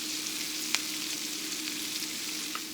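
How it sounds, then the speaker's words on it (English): Diced mushrooms and onions fry in a pan over medium heat, a steady close sizzle with a couple of light utensil taps and no talk. "And I'm adding about a cup's worth of these diced mushrooms to my pan."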